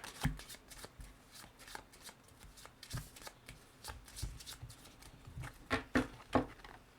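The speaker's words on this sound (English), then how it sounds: "I'm going to shuffle all the bomb plan cards." A deck of bomb-plan game cards is shuffled at a tabletop game night, with repeated riffling bursts and card snaps growing louder toward the end; faint voices murmur underneath.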